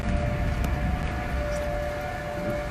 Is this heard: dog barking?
no